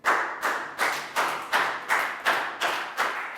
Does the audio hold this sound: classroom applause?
yes